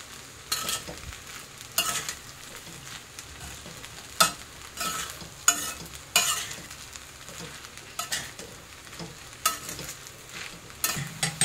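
Sabudana khichdi cooked in ghee is turned over in a pan, with soft frying sizzle under repeated scraping spoon strokes that come in a loose, regular rhythm.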